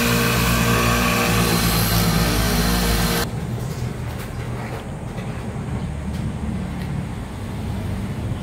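Mitsubishi Adventure engine running after its starter was cleaned, a loud steady roar that suddenly drops to a lower continuous idle rumble partway through.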